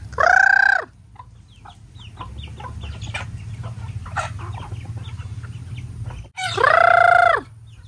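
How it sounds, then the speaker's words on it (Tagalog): Chickens cluck and chatter up close in a busy flock being fed rice, with a rooster crowing loudly at the start and again near the end. "Ayan na yung mga manok ni Pengay."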